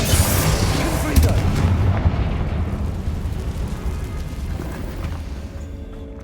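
A Confringo explosive spell blast in Hogwarts Legacy: a loud, rumbling burst at the start that decays into a long, deep roar and fading debris over several seconds.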